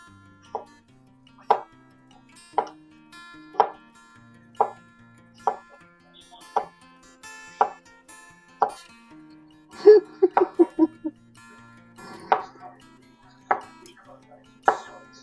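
A knife slices a cucumber into pieces on a cutting board in a quiet kitchen, with crisp, evenly spaced cuts about a second apart and a quick flurry of cuts midway through.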